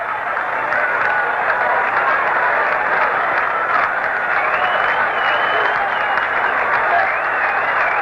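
Baseball stadium crowd at a 1978 Yankees–Angels game cheering and roaring steadily for the full stretch after a foul ball lands in the upper deck, a dense, loud wash of voices with some clapping and no pause.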